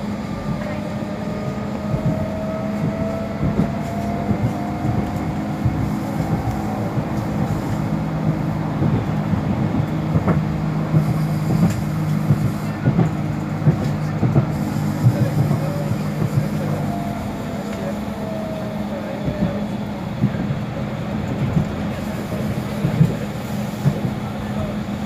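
Warsaw tram type 120Na Swing running on line 1, a steady low rumble and hum from inside the car with faint rising and falling motor whines, continuous and moderately loud throughout.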